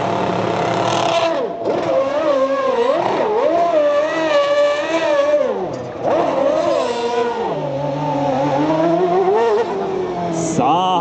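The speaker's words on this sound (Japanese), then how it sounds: "迫力のあるドーナツターンを見せました" A Formula Nippon race car spins a donut right after a pit-stop tire change, its engine revving hard in rising and falling sweeps, loud and close, with faint tire squeal.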